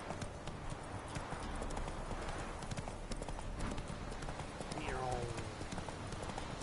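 Roach, the horse in The Witcher 3, clip-clops along in a steady hoof rhythm throughout, with someone talking over it and a brief whinny near the end.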